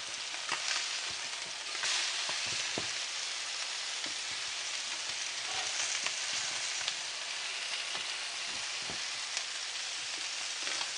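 Four pieces of king fish fry in masala in a pan with a dense, steady sizzle and crackle, close by, dotted with occasional sharper pops across the whole stretch.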